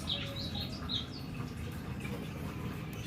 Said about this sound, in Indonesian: Di sini ada gamelan dan juga kicauan burung.